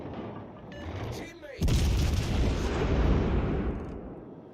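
Naval gunfire at the player's ship in World of Warships Legends, a loud booming salvo that swells suddenly and rumbles for a few seconds before fading, after quieter game sounds.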